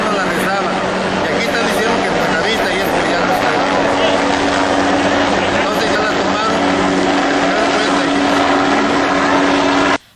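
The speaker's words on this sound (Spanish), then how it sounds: "comenzaron a sobrevolar helicópteros y llegaron tropas del ejército" Helicopters fly overhead as army troops arrive in Tancítaro, Mexico, a loud continuous rotor and engine roar under steady talk.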